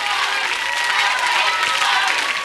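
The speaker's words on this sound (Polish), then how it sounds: "Brawa dla jurorów!" A studio crowd at a children's Eurovision national final claps for the jury, sustained thick applause that holds steady for the whole moment, with faint murmurs mixed in.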